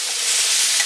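Squash pieces fry in hot oil in a cast iron pan, giving a steady, close broadband sizzle that holds even throughout the short stretch with no talking.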